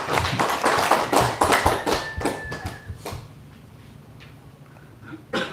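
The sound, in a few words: audience applause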